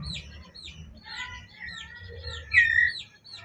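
Young forest bird chicks give repeated thin, high chirps and short tweets at an uneven rhythm, fairly close but soft, with a low background hum underneath.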